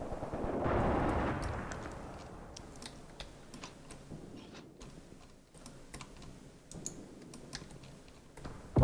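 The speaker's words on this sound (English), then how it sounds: "My anti-tank guns are now shooting at other enemy tanks." Anti-tank guns fire at enemy tanks in the war game Graviteam Tactics, with sharp, irregular cracking shots scattered over a rumbling battlefield background.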